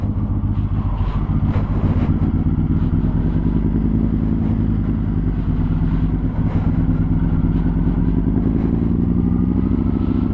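A loud, deep engine of a first-generation Yamaha MT-01 motorcycle, Euro spec with an Akrapovic exhaust, rumbling steadily up close, with a heavy low throb and some rattling clatter throughout.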